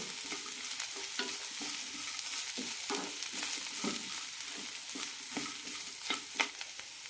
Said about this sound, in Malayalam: ഇനി ഇതിലേക്ക് ഒരു കഷ്ണം ഇഞ്ചി ഇടാം കൂടെ തന്നെ കുറച്ച് തേങ്ങയും മല്ലിയിലയും നന്നായി വഴറ്റാം